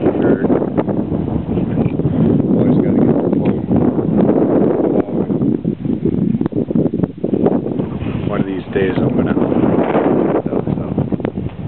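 Strong desert wind near the town of Rice in the Colorado Desert of southwest California buffets the microphone at a cement slab, a loud, continuous roaring rumble with a voice faintly beneath it.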